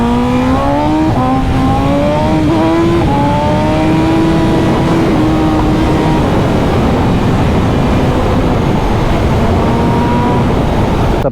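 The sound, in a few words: superbike exhaust revving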